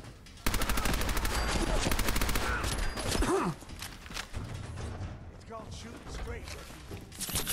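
Rapid automatic gunfire in the Fallout 4 video game roars in loud, dense bursts for several seconds, then gives way to scattered shots and combat noise, with a voice speaking over parts of it.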